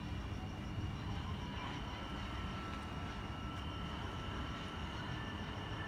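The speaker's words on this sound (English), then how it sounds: "We've got another V set approaching platform 1." Sydney Trains V set approaching a platform at night, a steady low rumble with a faint high whine, moderately distant and unchanging, with no talk over it.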